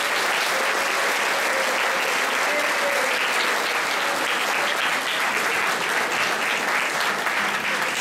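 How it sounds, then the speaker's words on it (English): Loud, sustained applause from a large crowd at a singing competition, dense clapping that holds steady for several seconds without fading. "give a loud round of applause for all the participants"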